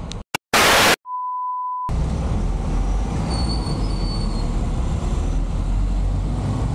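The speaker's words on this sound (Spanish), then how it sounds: "Es una alarma externa." A loud steady electronic beep from an external alarm sounds briefly after a few sharp bursts, then gives way to a constant rumbling truck hum with faint high whines, driving through Medellín, Colombia.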